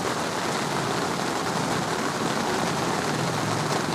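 Steady rain drumming on a Dhaulagiri Terra Pro 4 tent, a dense continuous patter heard from inside, loud and even with no voices.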